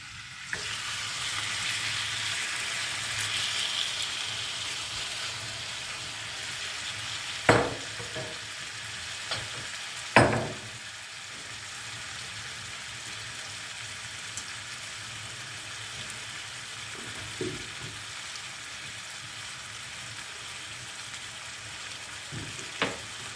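Steady sizzling of chicken pieces frying in a hot pan, with a few sharp clanks of a utensil stirring against the pan.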